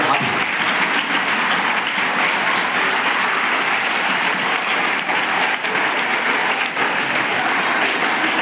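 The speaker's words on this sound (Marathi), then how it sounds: "एक पण जोरदार टाळ्या वाजवायच्या." A school audience claps loudly and steadily for the teachers. The dense, unbroken applause keeps the same level through the whole stretch, with no voices standing out.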